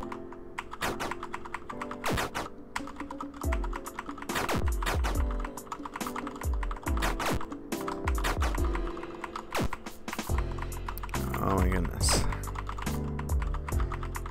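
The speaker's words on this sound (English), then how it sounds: "Sorry for all the click-clackety of the keyboard." Rapid, steady clicking of a computer keyboard during fast typing, close and fairly loud, with dense irregular bursts of keystrokes over a low background hum and music throughout.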